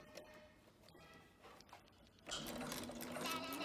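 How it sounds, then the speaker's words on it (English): A sewing machine stitches T-shirt fabric, a few brief clicks of the needle giving way to a steady, fast mechanical whir that runs close and loud to the end. "Now we're going to sew it together in the shape of a box with an X through the center."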